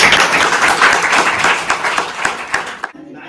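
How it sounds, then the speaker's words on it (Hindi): Students and staff applaud at a school farewell party, dense lively clapping from a crowd that thins into a few scattered claps before stopping abruptly, with some voices mixed in. "तालियों से स्वागत करें।"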